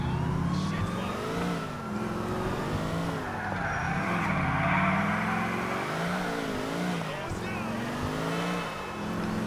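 Police car driven along a sidewalk in GTA IV: a continuous engine drone with rising and falling revs and some tire skidding, loud and close, with a voice talking over it.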